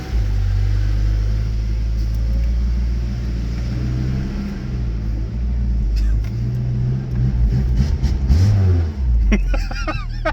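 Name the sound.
car engine revving, possible exhaust leak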